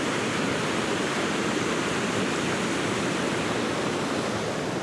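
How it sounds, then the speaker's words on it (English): River rapids and a waterfall at the end of a trail give a steady, loud, close rush of white water that stays even and unbroken throughout. "those are some decent rapids."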